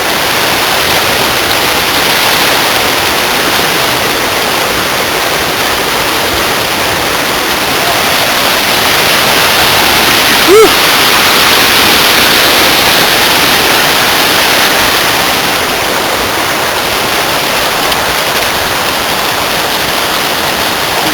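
Rushing river rapids on the Verde River, a loud, continuous broadband roar of churning water close by, steady for the whole stretch with only a brief faint squeak partway through.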